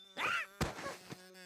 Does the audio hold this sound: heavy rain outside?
no